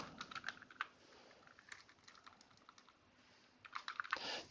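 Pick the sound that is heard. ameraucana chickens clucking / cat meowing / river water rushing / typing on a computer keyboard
typing on a computer keyboard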